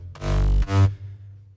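Layered distorted saw synth made in Spire for a dance track, a thick buzzy two-part stab with a heavy low end, followed by a short ringing bass tail.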